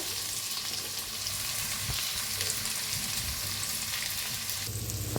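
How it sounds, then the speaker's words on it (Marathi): Chopped onions, crushed garlic, chilli and cumin seeds sizzle in a hot pan for a spicy egg curry, a close, steady frying hiss with faint stirring. "आता मिक्स करून भाजून घेऊया आपण।"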